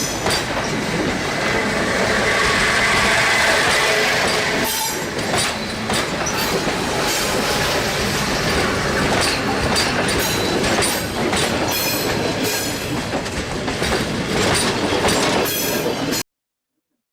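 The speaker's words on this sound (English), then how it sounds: "Noise from railroads, it's a disaster, right?" A train passes along a railway line close by, with loud, continuous rumbling and clattering wheel noise over rails lasting throughout, and a brief higher screech near the start.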